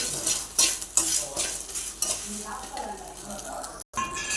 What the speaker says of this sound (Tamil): இதை வறுத்துட்டு கடைசியாக நாம் முருங்கைக்கீரையும் கருவேப்பிலையும் வறுக்கலாம்